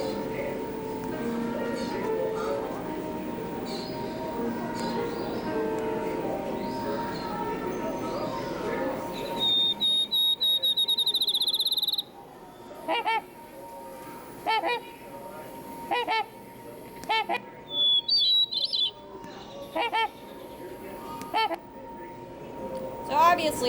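Bird calls played back from a museum exhibit sound as loud honking, goose-like bursts repeated several times after a stretch of background chatter, with a few sharp electronic tones mixed in.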